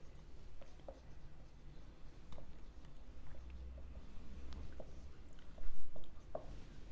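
A pen or chalk scratches faintly as an accounting journal entry for a purchase on credit is written out, with soft, intermittent strokes and taps in a quiet room.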